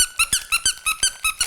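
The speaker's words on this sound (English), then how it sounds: "I like to always have a toy that has a good squeaker in my pocket" A squeaky dog toy squeaks repeatedly in a steady rhythm, about eight sharp, bright squeaks in quick succession, close and loud with no talking.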